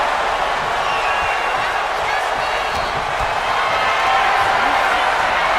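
A dense, steady roar of an arena crowd fills a WWE 2K26 wrestling match in the video game, with a continuous broad wash of cheering and no clear breaks.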